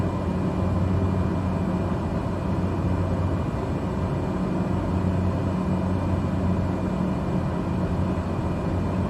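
Steady, continuous drone of a Cessna Caravan single turboprop engine in Microsoft Flight Simulator 2020, a low humming rumble with tonal hum bands held at an even level throughout, with no voices.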